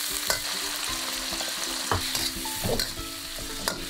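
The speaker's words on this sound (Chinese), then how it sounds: "淋入料酒和生抽" Wine and soy sauce hit a hot wok of pork fat, scallion, ginger and garlic, giving a steady close sizzle broken by the scrape and clatter of a stirring spatula, with no talk.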